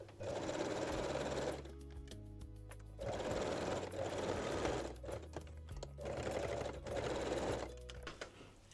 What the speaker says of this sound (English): I'm using the straight stitch